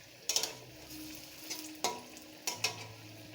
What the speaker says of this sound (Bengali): আর এক পিঠ লাল লাল করে ভেজে নেব